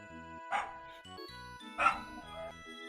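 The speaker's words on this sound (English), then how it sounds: "The dogs are barking again." A dog barks twice, about a second apart, sounding somewhat distant and indoor-muffled over the steady beeps and tones of Pokemon Red playing on a Game Boy.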